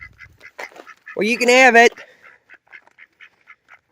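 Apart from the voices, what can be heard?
geese honking while coming for food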